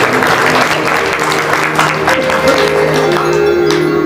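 An audience at a Shrimad Bhagavat katha, a Hindu religious recitation, claps loudly and continuously. The close, crowded applause holds steady from start to end.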